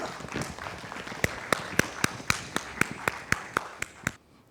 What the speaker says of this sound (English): A huge round of applause for Mr. Rrahul Sethi.